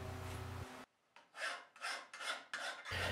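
A hand file shapes a carving knife blade in a shop with no power tools: a steady run of close, rhythmic rasping strokes after a brief pause, each stroke crisp and scraping.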